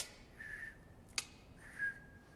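Common marmoset giving faint, thin whistle-like calls, two drawn-out tonal peeps separated by a short sharp click in a quiet indoor room.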